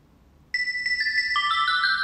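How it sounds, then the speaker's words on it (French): Ringtone chime from an EZVIZ HP7 video doorbell indoor screen, a bright electronic melody of rising tones that starts abruptly after a moment of quiet and plays on steadily, close and clear with no voices. "on a les différentes sonneries que l'on peut choisir"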